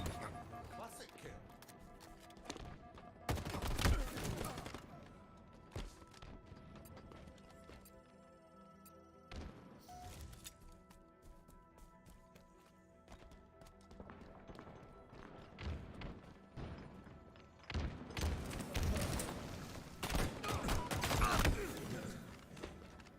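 Gunfire in Halo Infinite comes in loud bursts separated by quieter stretches of in-game sound, with clusters of sharp reports near the start and end and voices speaking in between.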